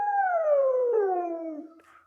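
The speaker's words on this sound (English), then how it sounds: "they howl really loud at night" One long, loud wolf howl glides slowly downward and fades out after under two seconds, clear and isolated with no other sounds.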